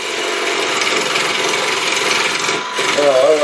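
A lathe tool scrapes and cuts away old wood from a punky blank, a close, continuous rough hiss of shearing wood that shifts slightly near the end.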